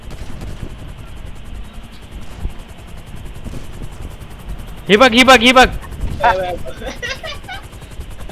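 A helicopter in the video game GTA 5 drones steadily throughout, with a short burst of rapid gunfire midway and a person talking over the game sounds.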